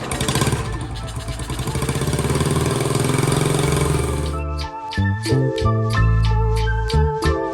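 A rebuilt Honda Trail 70 motorcycle engine runs close by, a loud steady buzzing idle that shifts partway through into a choppier, uneven putter with sharp clattering pulses.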